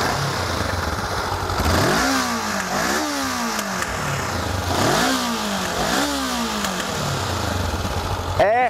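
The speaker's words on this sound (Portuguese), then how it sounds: "Esse é o barulho da CB500." Honda CB500F motorcycle engine revved repeatedly up close: four or five sharp throttle blips rising and falling over a steady idle, each swell climbing in pitch then sliding back down, with a clatter at the end.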